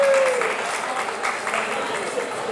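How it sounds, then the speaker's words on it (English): A lone spectator claps during a character's low-key entrance, Loki walking out at an outdoor island show on the Disney Destiny cruise at Lookout Cay, against a steady crowd-noise background with a brief whistle-like tone at the start. "The one person clapping."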